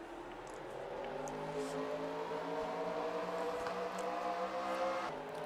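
NASCAR race car engines in a Chicagoland stock car racing video game, a faint, steady engine drone with a low hum as the cars idle and begin rolling, with no talk.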